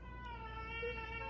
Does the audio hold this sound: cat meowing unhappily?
yes